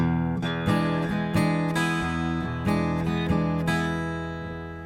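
Acoustic guitar chords played as a blues shuffle in a lilting, swung rhythm, with uneven long-short strums repeating steadily and ringing out up close.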